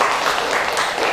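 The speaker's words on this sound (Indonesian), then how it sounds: "berikan tepuk tangan." Students clapping in a classroom during a mathematics lesson on quadratic equations, a short, loud and dense burst of hands applauding close by, with no talking.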